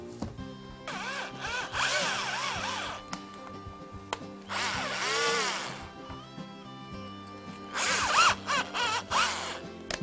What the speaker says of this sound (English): My drill's getting tired